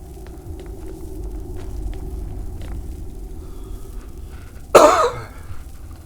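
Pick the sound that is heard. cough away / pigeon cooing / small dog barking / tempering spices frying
cough away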